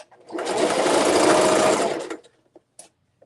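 Sewing machine stitching the end of a zipper tote bag, a steady mechanical whirr running for about two seconds, then a few short clicks as it stops.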